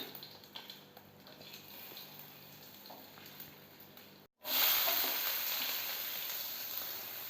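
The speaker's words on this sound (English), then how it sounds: "you can find our onions is nicely getting fried" Onions fry in a pan with cinnamon, cloves, cardamom, star anise and bay leaves, giving a steady close sizzle that cuts out for a moment, then comes back louder and brighter.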